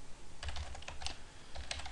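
Keys clatter on a computer keyboard as a short burst of typing goes into a chat program, with quick uneven clicks close by and no voices.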